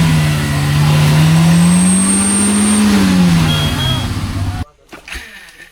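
A vehicle engine revs hard and steadily while pushing through thick mud, its pitch rising and falling before cutting off abruptly, followed by faint scattered sounds.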